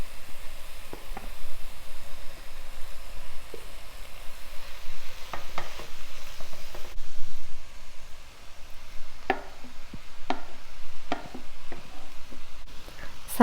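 Cooked rice stirred into beetroot in a pan, a steady scraping and stirring with soft sizzling and occasional sharp spoon knocks against the pan, close and moderately loud with no talk.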